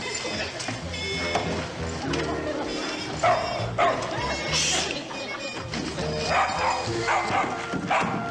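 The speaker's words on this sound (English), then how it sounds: "This dog should be in bed." A dog barks and yips repeatedly indoors, close and fairly loud, while a person talks over it scolding.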